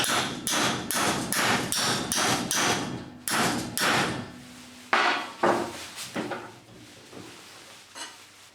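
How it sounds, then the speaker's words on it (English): A hammer gently taps a bent metal handle in a quick series of sharp strikes, then a few slower, spaced knocks fading toward the end. "I'm just going to give it a gentle tap with the hammer"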